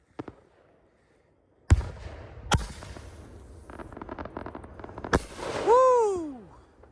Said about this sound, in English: I'm yelling to make sure you can hear me over those giant booms in the background.